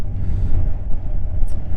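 Kawasaki Ninja 1000 SX motorcycle (2020–2021) engine running smooth at speed, a steady loud low rumble mixed with wind buffeting, with no talk over it.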